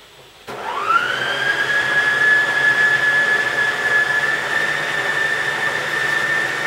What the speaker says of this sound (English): you're just letting the blender do all the work for you